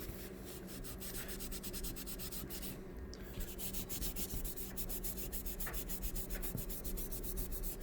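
Someone scrubs paint off a Spawn #9 comic book cover, making quiet, rapid, rhythmic rubbing strokes, close and steady throughout, with no talking.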